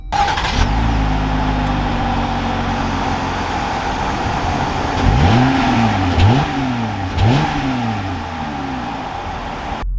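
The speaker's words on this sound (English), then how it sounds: "let's take this luxury Gladiator out and see how it drives." A 2021 Jeep Gladiator High Altitude pulls away with its engine loud and close, revving up through several rising gear pulls with brief dips between shifts, no talking.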